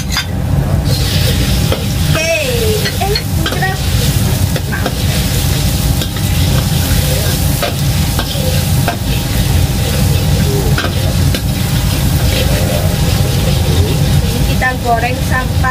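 Garlic sizzles loudly in hot oil as a spatula stirs and scrapes the pan steadily throughout, with a person talking occasionally over the frying.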